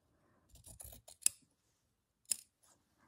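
Scissors snip through a small scrap of paper in a few quick, close, crisp cuts, then a pause and one more snip, in an otherwise quiet room.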